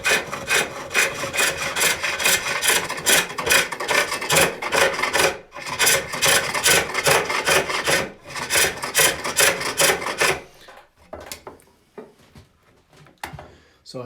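Rough, steady rasping as a wooden bowl is turned on a spring pole lathe, the tool cutting in rhythmic strokes with brief pauses, then lighter scattered scraping toward the end.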